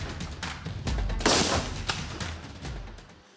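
Special forces shooting training: gunfire crackles in a dense series of muffled reports with one louder, sustained blast in the middle, heard at moderate distance with no voices.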